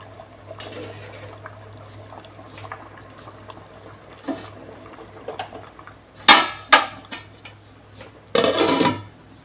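Clanking of a plate set over a mushroom biryani pot in a home kitchen, with quiet scrapes and taps before two louder metallic clatters near the end.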